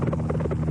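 A helicopter carrying a power lineman beside a high-voltage wire makes a steady, loud, close rotor thrum with rapid blade pulsing.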